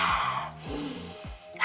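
Slow breaths drawn in through the nose and let out through the mouth during a mindful breathing exercise, three soft airy cycles heard close up with no talking.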